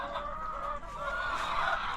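Farm chickens bought from a breeder cluck steadily close by in a poultry house, with a rooster-like crowing tone rising toward the end, no talking.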